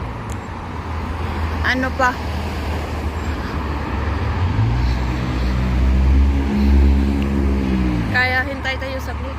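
Cars and other vehicles pass along a busy street near a gas station and sidewalk, making a steady roadway rumble with one engine swelling loudly nearby midway through. A person talks briefly near the start and again near the end.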